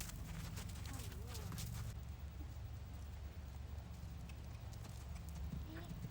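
Pony hooves clip-clop steadily at a walk, a continuous rhythmic patter close by, over a low rumbling background.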